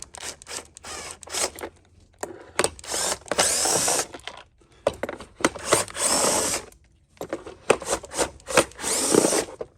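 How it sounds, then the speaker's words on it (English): Phillips head screws being backed out of the rear housing of a Bissell TurboClean PowerBrush carpet cleaner, with bursts of whirring driver and scraping plastic, close and fairly loud, broken by brief pauses and no speech. "screws on the back, so we're going to have to remove these"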